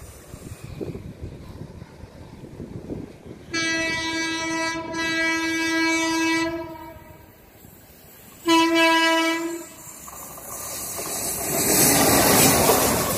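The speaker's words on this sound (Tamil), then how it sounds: "ட்ரெயினுக்கு ட்ரெயின் வந்துட்டு இருக்கு" An Indian express train hauled by a WAP4 electric locomotive rumbles closer near Arakkonam with low clatter, then blasts its horn loudly in a long chord, pauses, and sounds it again, followed by rising rolling noise.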